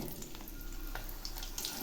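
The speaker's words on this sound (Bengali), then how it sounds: "এবার আমি গাজর ভেজে নিচ্ছি।" Long-cut carrots frying in oil for Bengali shukto, a soft continuous sizzle with faint crackles, quiet and close.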